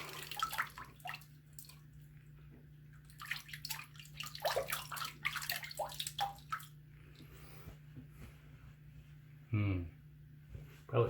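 Tap water runs and splashes intermittently in a sink as a face is rinsed after a shave with a vintage 1986 Gillette Black Beauty razor, close-up splashes and drips coming in uneven bursts.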